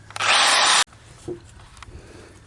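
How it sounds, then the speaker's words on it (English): A reciprocating saw bites through scrap wood for a homemade bench in a loud, harsh burst of under a second, then cuts out, leaving faint knocks and handling noises. "I'll finish it off with the reciprocating saw by going the opposite direction"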